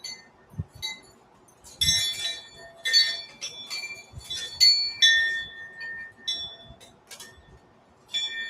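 Wind chimes clink in irregular bursts of bright metallic tones, some ringing out briefly between quieter gaps, with a faint low rumble beneath.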